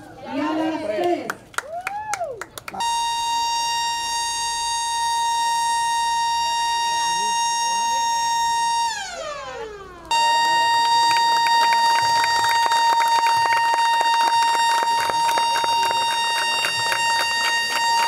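A community alarm siren sounds at a neighborhood inauguration. A few voices and claps come first, then a loud, steady wailing tone that dips near the middle and restarts louder and harsher, holding to the end.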